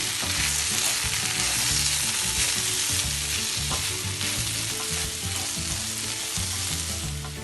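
Spiced aubergine mixture being stirred in a hot pan, sizzling and frying steadily throughout with a continuous scrape-and-stir texture, loud and close, no voices.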